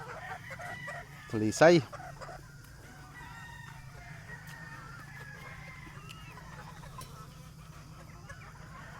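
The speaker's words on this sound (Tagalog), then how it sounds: "May mga chicks." Chickens on a breeding farm for national fowl, with chicks nearby: a loud rooster crow near the start, then faint scattered clucks and peeps over a low steady hum, with a brief spoken word.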